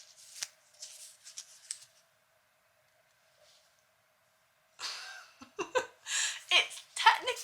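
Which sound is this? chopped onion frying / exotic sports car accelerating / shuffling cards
shuffling cards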